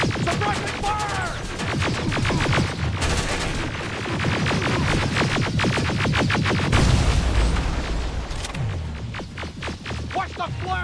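Sustained rapid gunfire from the video game Terminator Resistance, dense bursts of automatic shots and booming impacts crackling nonstop at loud volume, with shouted voices mixed into the battle.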